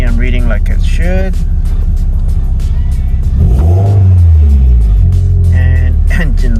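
The engine of a Toyota MR2 revs up and falls back in a loud, close burst, with someone talking over the idle before and after it.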